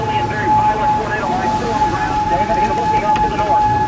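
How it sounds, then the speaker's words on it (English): A tornado storm with wrapping rain bands near Moore, Oklahoma roars as a loud, continuous churning rumble, with a steady tone sounding over the noise. "Wrapping rain bands, big tornado here."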